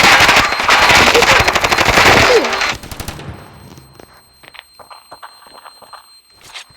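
Rapid bursts of automatic gunfire from the video game Standoff 2, loud and dense for a few seconds, then stopping, followed by scattered quieter clicks and game sounds.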